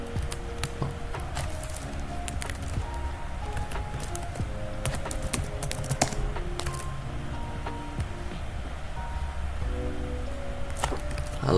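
Someone types on a computer keyboard in the Linux terminal's nano editor, producing a continuous run of quick, close key clicks at an uneven rhythm, with no talking.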